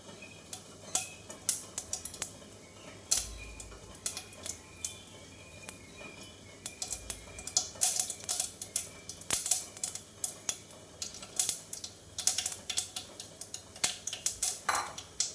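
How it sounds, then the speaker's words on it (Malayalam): Mustard seeds, joined by dried red chillies, splutter in hot oil, giving rapid, irregular sharp pops and crackles that cluster in dense bursts over a faint background hiss. "കടുക് പൊട്ടി തുടങ്ങിയിട്ടുണ്ട്."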